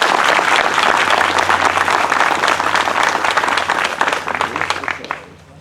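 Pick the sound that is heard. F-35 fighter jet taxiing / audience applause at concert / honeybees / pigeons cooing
audience applause at concert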